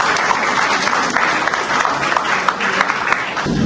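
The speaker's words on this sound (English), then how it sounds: "So please give a big round of applause" An audience at a college National Science Day event applauds a faculty member, a steady dense patter of many hands clapping at moderate volume that fades slightly at the end.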